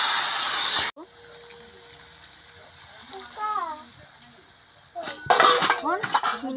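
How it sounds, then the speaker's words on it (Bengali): Water is splashed into a hot pan of spiced fried potatoes, setting off a sharp hiss and sizzle, followed by utensil clinks and scraping against the pan, close and loud. "সামান্য একটু জল দিয়ে দেবো।"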